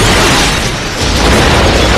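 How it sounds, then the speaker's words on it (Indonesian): A motel blowing up in a film scene: one continuous, loud, broadband roar with heavy low rumble that dips slightly midway and surges again, with no voices. "motel yang mereka tempati pun meledak"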